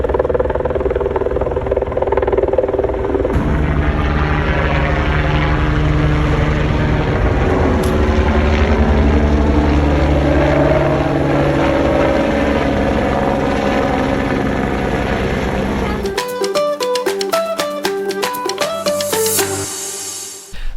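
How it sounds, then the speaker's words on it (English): A helicopter lifts off near water on the Isle of Skye, its engine and rotor roaring loud and steady with a rising, throbbing whine, before electronic music abruptly takes over near the end. "it's not every day you get to watch a helicopter take off and it looks like it's picking up some water"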